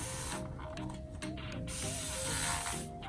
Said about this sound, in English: This is a 360 type spray bottle.